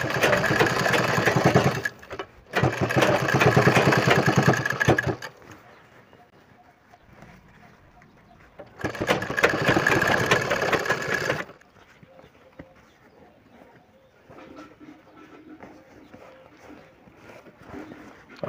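Sewing machine stitching a folded jeans waistband, two loud close bursts of rapid running stitches separated by quiet pauses with faint handling noise and soft background sounds.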